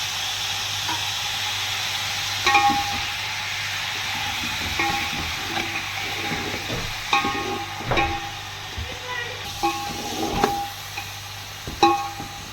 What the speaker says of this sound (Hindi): अदरक लहसुन डाल के सीधी भुनाई कर ली।